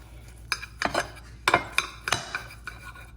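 Knife and fork cutting a cooked pork chop on a plate, a handful of sharp clinks and scrapes of metal on ceramic, close and fairly quiet, with no talk.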